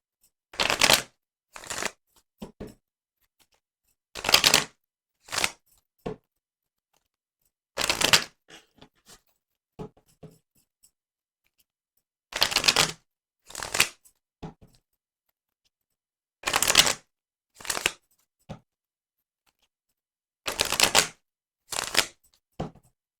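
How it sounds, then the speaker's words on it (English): A tarot deck shuffled by hand in repeated short bursts of crisp riffling and card slaps, separated by quiet pauses, close and with no talk. "I'd like to give the cards just a little shuffle before we begin."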